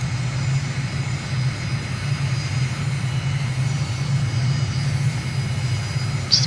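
In Microsoft Flight Simulator, an aircraft's engine hums steadily on approach to landing with the throttle at idle, a constant low drone with a faint high whine above it and no talk.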